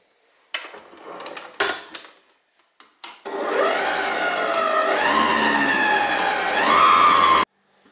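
An electric mixer whips sweet cake batter for a watermelon cake, a few clicks and bumps first, then a loud, steady motor whine with shifting pitch that cuts off abruptly.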